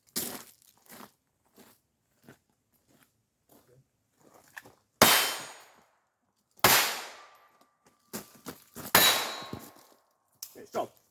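A .22 pistol fires during self-defense shooting practice, with several sharp, loud reports spaced a second or two apart, interleaved with quieter clicks and handling noises.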